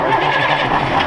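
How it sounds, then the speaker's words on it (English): A water truck's engine cranking without catching, a loud, close, continuous churning drone from the starter that holds steady over its short span. "Can you crank it longer than that? In one go? It doesn't want to start."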